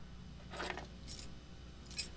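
Keys being taken in the Gabriel Knight: The Beast Within game at a hunting lodge, a few brief, faint metallic jingles and clinks over a low steady background hum.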